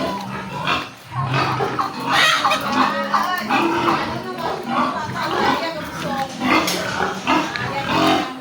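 Pigs on a farm grunt and squeal in close, overlapping bursts while people talk over them.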